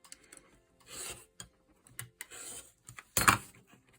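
Fabric for a quilt block being trimmed on a cutting mat, with soft scraping rubs from a rotary cutter or ruler, light taps, and one sharper rasping stroke near the end, close and quiet.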